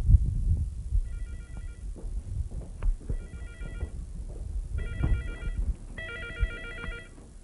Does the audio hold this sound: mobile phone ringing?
yes